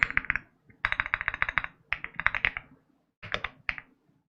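Fingers type on a computer keyboard in quick bursts of crisp, close clicks, pausing briefly between flurries before a final few separate keystrokes.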